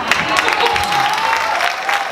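A seated audience applauds with a steady, close burst of clapping, under a brief stretch of voice.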